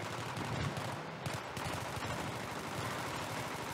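Sustained automatic gunfire in the first-person shooter Battlefield 3, dense rapid bursts rattling continuously and loudly throughout with no pauses.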